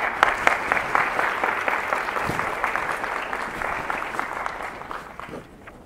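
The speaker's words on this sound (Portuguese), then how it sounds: "Uma salva de palmas" A lecture audience claps at a talk after a name is announced, a dense, fairly close round of applause that holds steady and then tapers off at the end, with no voices over it.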